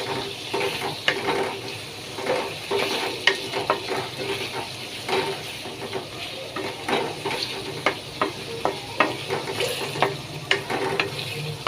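Tomato, cucumber and okra sizzle steadily in a hot pan while being stirred, with repeated scraping clicks of the utensil coming at a fairly regular pace, close and clear with no talking.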